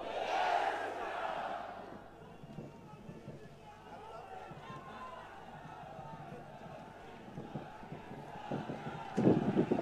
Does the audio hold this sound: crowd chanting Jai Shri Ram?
yes